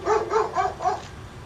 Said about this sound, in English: I can't have this dog barking.